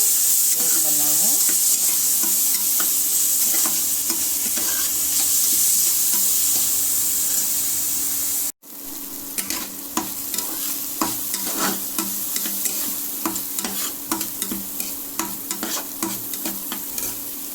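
Moong dal frying and being stirred in a pan, with steady sizzling throughout and repeated scraping strokes of a spoon that grow sharper and more frequent in the second half, with no talking.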